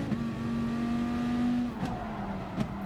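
Dodge Viper Gr.3 race cars lapping Spa-Francorchamps in Gran Turismo, a loud steady engine drone holding pitch then dropping as gears shift, with brief whooshes of cars passing close near the end.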